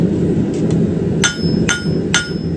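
A rounding hammer strikes a hot knife blade on an anvil during forging, with three sharp ringing blows and lighter taps between, over a steady workshop roar.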